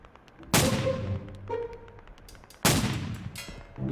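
Two loud tank cannon shots in the Roblox Multicrew Tank game, each a sharp near blast with a long rumbling decay, about two seconds apart, with no talking.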